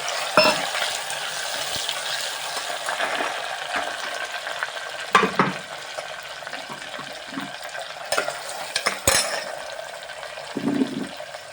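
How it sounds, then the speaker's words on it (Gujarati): Tomato goes into a pan with garlic paste, bringing a frying sizzle and scraping stir, with a few sharp clanks of utensil against pan over steady background hiss, no talking. "હવે એમાં નાખીશ ટમેટું"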